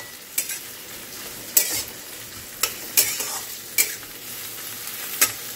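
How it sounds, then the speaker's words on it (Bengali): Steady, quiet sizzle of onions frying in a pan, broken by about six sharp scraping stirs spaced roughly a second apart. "তো পেঁয়াজটা লাল করে ভাজা হয়ে যাক"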